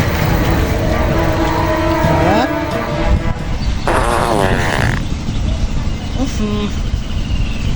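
Comedic fart sound effect in a village comedy sketch: a loud rasping, buzzy burst in the middle, with shorter bursts around it, over a constant noisy background, and voices may be present.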